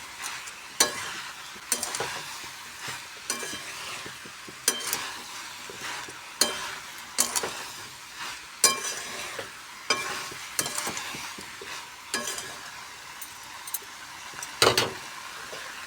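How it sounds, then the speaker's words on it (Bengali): Mixed vegetables fry in a pan while a spatula stirs them in regular scraping strokes over a constant sizzle, about a dozen clear scrapes at a steady rhythm, close and fairly loud, with no speech. "মাংস যেমনভাবে কষে সেরকমভাবে সবজিটাও কষতে হবে ভালো করে।"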